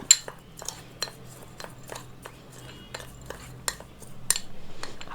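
Oil and ingredients for a homemade face scrub being stirred in a small bowl, a spoon clinking and scraping against the sides in a series of irregular sharp taps, close and fairly quiet, with a quicker rattling run at the end.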